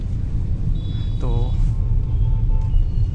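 Low steady engine rumble of a Maruti Brezza moving through city traffic in second and third gear, with a brief horn-like tone and faint distant sounds over the drone.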